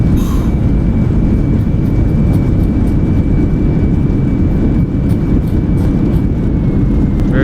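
Airbus A320 thrust reversers roaring just after landing in Microsoft Flight Simulator, a loud, steady broadband rumble filling the whole clip without letting up.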